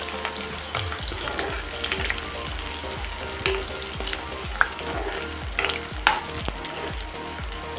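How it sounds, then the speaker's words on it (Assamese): Onions and a bay leaf fry in hot oil in a kadai, producing a steady crackling sizzle with scattered scrapes and knocks from stirring, heard close and alone. "পিঁয়াজখিনি ৰঙচুৱা নোহোৱালৈকে ভাজিয়ে থাকিম মই।"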